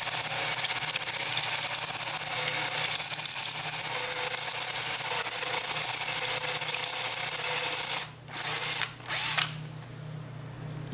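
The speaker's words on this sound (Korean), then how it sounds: "여기 8mm에 있는 이제 요 드릴을 이용을 해서 얘를 먼저 구멍을 좀 내줄게요." An 8mm drill bit bores a hole into a stripped thread for a thread repair, the drill whining loud and steady for about eight seconds before stopping in short bursts and trailing off.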